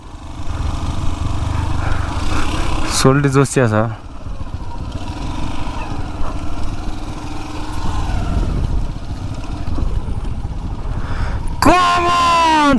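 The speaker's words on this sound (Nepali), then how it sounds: "अब बाइकै जङ्गलमा कुदाउने छ ऊ" A motorbike ridden through jungle on a cycle track, a steady close engine drone throughout with revving surges, while voices talk over it.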